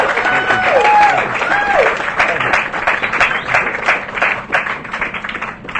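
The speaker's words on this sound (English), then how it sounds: "You notice most of the people clapping for him were sitting at his table" Audience applause at a radio show event: a dense burst of clapping that swells then gradually thins, with voices mixed in.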